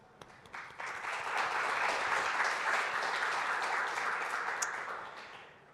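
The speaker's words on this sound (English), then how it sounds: "Give them a round of applause." Audience applause fills a conference keynote hall, swelling quickly into sustained clapping that holds for several seconds before tapering off.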